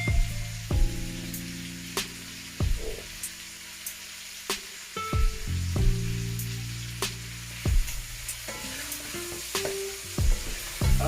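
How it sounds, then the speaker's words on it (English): Oxtail meat browning in a pot for a Jamaican oxtail dish, giving a steady close sizzle with repeated sharp clanks and scrapes of stirring throughout. "I've been browning the meat now for about 10 minutes."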